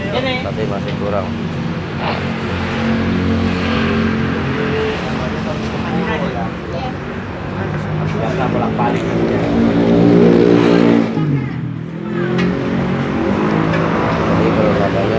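Honda Megapro motorcycle engine with an ignition fault idling and revving close up, a loud steady drone that rises and falls, with a swell near the end, while people talk over it.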